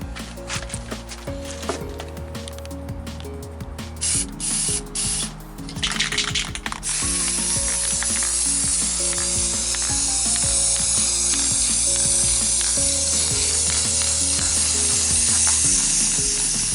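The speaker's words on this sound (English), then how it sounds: "Sometimes this reacts weird to the spray paint." Spray painting a Mayan sun yard decoration, with rattling and clicking from the can followed by a long steady hiss of spray that grows louder and continues to the end.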